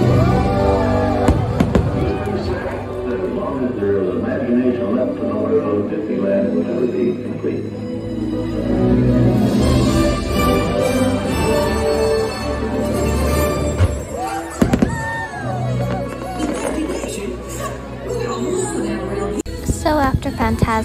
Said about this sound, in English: We are watching the Disneyland 60th celebration fireworks, Disneyland Forever.